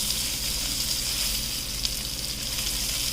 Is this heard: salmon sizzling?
yes